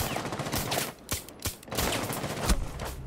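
Gunfire bursts in a ranked Rainbow Six Siege match, several sharp loud shots clustered in quick succession with short gaps between them, alone without talk.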